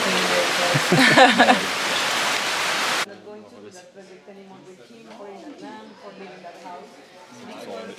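Cold shower water running during a jungle trek to Colombia's Lost City, a loud, dense hiss of spray for about three seconds that cuts off abruptly, followed by quiet background with a voice talking.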